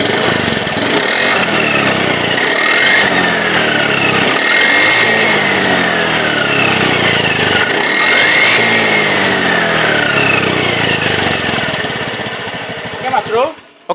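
Rough, grinding gear noise from an automatic scooter's final drive as the engine is revved repeatedly, a loud continuous mechanical drone that swells in several rising surges, with a voice speaking over it.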